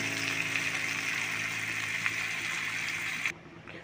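Water poured into an egg curry cooking in a pan makes a steady close rushing, bubbling flow that stops abruptly near the end.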